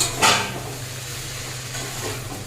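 Vegetables are stirred in a pan with raw hilsa fish oil for Malabar spinach chorchori. A faint, steady sizzle plays with a quick scrape of the utensil near the start. There is no talk.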